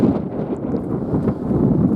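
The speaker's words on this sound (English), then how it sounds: "Also a little windy." Low, steady wind buffeting a microphone at an outdoor classic car gathering, a continuous rumbling roar with slight gusts and no voices.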